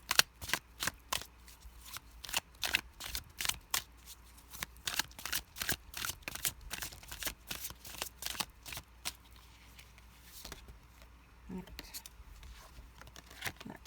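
Tarot cards are shuffled by hand in a steady run of crisp riffling bursts, with a couple of cards slipping free near the end, and a voice talks faintly in the background.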